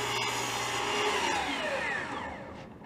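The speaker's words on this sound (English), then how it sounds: "I start the blade right before I cut through." Power saw blade spinning and cutting through wood in a woodshop, a steady loud whining buzz with a falling tone as the blade bites, fading slightly at the end, with no talk.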